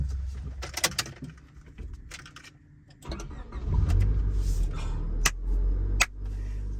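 A Honda Civic engine cranks briefly, catches, then settles into a steady low idle, close by, with a few sharp clicks and faint chirping birds in the background.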